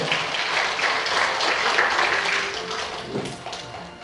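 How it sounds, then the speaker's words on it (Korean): Audience applause at a certificate ceremony in the National Assembly main conference hall, a dense sustained roar of many hands that gradually tapers off. "박수 보내주세요."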